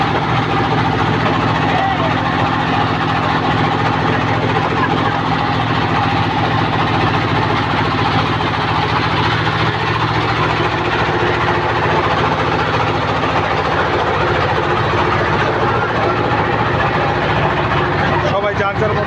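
A trawler boat's engine runs steadily on the Turag river, a continuous loud idling drone with a constant low hum throughout, with voices faintly underneath.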